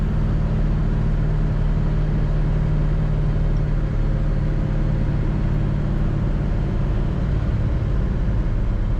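A 1968 Chevrolet Chevelle SS with a 396 V8 runs on the road, heard from inside as a continuous deep engine drone mixed with road rumble, steady and fairly loud throughout.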